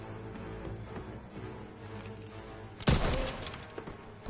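Gunfire in Call of Duty WWII, a rapid patter of distant shots with a single loud, sharp burst of fire midway, trailed by scattered smaller shots.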